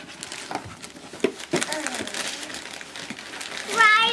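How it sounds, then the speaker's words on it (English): Wrapping paper crinkles and tears as a small child opens a present from a grandparent at home, with rustling bursts under ongoing speech from a child and adults. "Open it up. Unwrap it."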